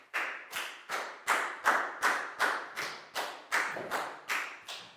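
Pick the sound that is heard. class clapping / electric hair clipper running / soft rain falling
class clapping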